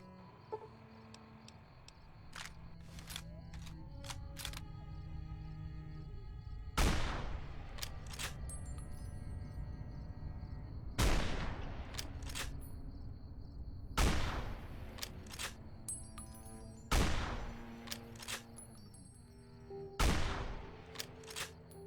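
Video game gunfire: sharp, loud shots go off at irregular intervals of a few seconds over a steady humming game ambience, with no talk.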